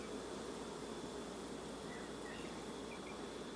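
A steady, dense buzz of honey bees at a hive fills the whole clip, a mass of bees humming continuously at close range with no voices.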